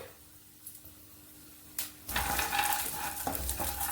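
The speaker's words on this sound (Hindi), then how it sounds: "बस 1 चम्मच घी में ही हमारे सब फ्राई हो जाएंगे ड्राई फ्रूट्स" Raisins, cashews and almonds frying in a spoonful of ghee over low heat, quiet at first, then soft sizzling with stirring scrapes of a spoon against the pan.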